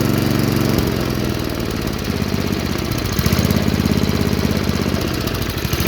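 A Tecumseh 5hp HSSK50 engine runs steadily on a Cub Cadet 524T track-drive snow blower, a loud, close, continuous chugging drone with a rapid pulsing beat and no talk.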